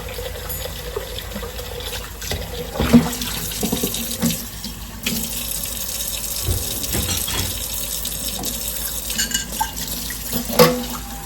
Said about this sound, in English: I try to wash my dishes as I go along, so I don't have so many to do.